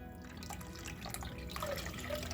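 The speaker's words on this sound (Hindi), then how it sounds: "अब फिर से हम साफ पानी लेंगे और सूजी में इस तरह से डालेंगे" Clean water poured into semolina for making sooji kurwadi, a steady trickling and splashing pour with small drips, moderately quiet and continuous with no talking.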